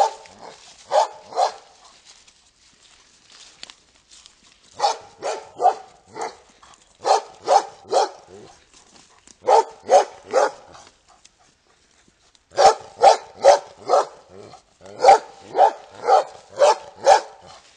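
A police dog at a Dutch training session barks in loud, close bursts of three to five barks, separated by short quiet pauses, with no talking over it.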